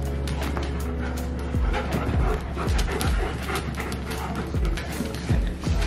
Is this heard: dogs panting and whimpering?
yes